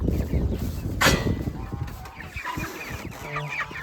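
Backyard homestead chickens cluck and chatter continuously, close by, with a sharp loud squawk about a second in and scattered calls over a busy, noisy outdoor background.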